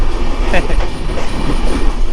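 Ekota Express passenger train rolling along the rails, a loud close rumble with rhythmic wheel clatter and a brief squeal, continuous for the short stretch.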